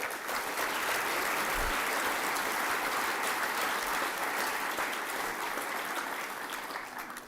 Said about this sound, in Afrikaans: Dink ons kan daarom vir ons Master of Ceremonies vanaand net David Kotse ook 'n baie lekker aan 'n klap gee